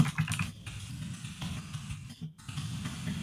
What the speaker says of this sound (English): Me typing.